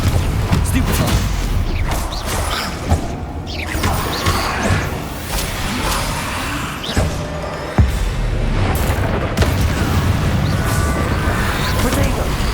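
Spells cast in Hogwarts Legacy during combat, heard as a dense, continuous run of magical whooshes, crackling bursts and booming impacts that overlap one another over a steady, loud bed of game sound.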